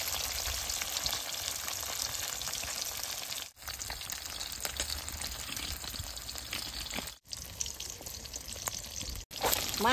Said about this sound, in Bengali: তেলটা গরম হয়েছে, মাছটা এখন বেশ সুন্দর করে ভাইজা নেব।